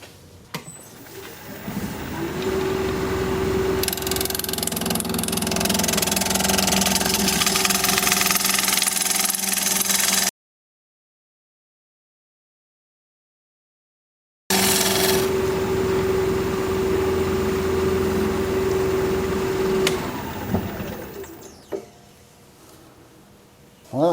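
Wood lathe spinning a live-edge cherry-plum bowl at 1280 RPM, a steady close motor hum with a sustained tone, cutting out for a few seconds of silence, then resuming and winding down at the end.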